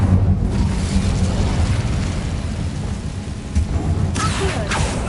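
Fire spell Incendio cast in the Hogwarts Legacy video game, a dense rumbling, crackling burst that rolls on steadily for several seconds, with brighter flaring bursts near the end.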